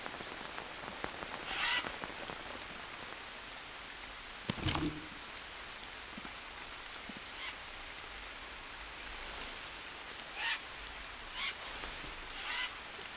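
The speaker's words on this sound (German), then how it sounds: "Also es regnet hier durch." Rain falls through the leaky roof of a jungle hut in the survival game Green Hell, a steady hiss of patter broken by brief louder splashes and drips, with no talk over it.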